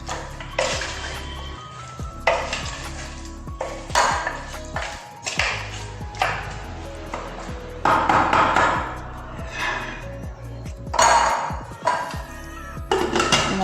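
Chicken curry is stirred in a cooking pot with irregular clanks, scrapes and wet sloshing bursts, loud and close, with short pauses between strokes.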